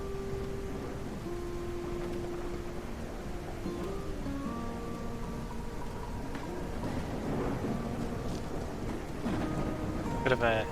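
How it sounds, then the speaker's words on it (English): Heavy rain pours steadily under thunder rumbles in the mouse city-building game Whiskerwood, a dense continuous wash beneath soft musical tones, with a louder crack near the end. "Bit of a heavy rain day."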